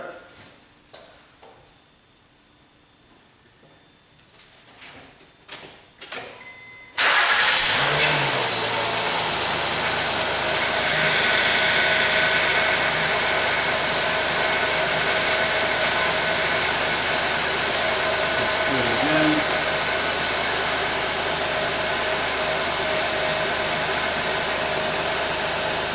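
Honda 3.5 V6 engine cranking and catching after a timing belt and water pump service, a few quiet mechanical clicks before it fires, then a steady, close idle hum that holds for the rest.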